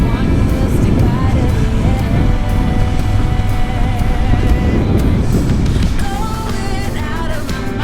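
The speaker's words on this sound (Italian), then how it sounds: "Un vento pazzesco, non so se lo sentite dal microfono" Strong wind roars over a helmet microphone while a motorcycle rides a rough gravel road, a dense, loud buffeting noise with engine drone underneath throughout.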